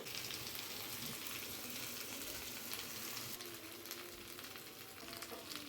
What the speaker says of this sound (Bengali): সামান্য একটু নুন হলুদ দিয়ে আগে ভাজতে দিয়ে দিচ্ছি